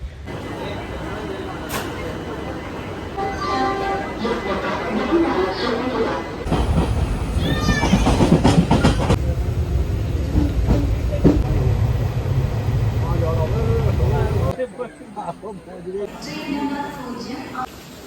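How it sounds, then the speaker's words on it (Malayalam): A train at a railway station rumbles loudly through the middle of the scene, a heavy rolling wash under ambient chatter and people's voices, before dropping away to quieter platform sounds. "ഇനിയിപ്പോൾ നമ്മൾ നേരെ ട്രെയിൻ കയറാൻ വേണ്ടി പോവാണ്"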